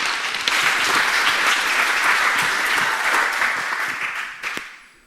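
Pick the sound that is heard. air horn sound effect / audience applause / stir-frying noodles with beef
audience applause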